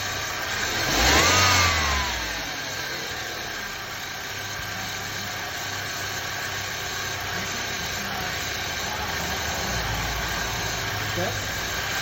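A rough-running 2002 Nissan Altima engine after a simple tune-up and new plugs gets one quick rev that swells and falls back to a steady idle, heard close for the rest of the stretch.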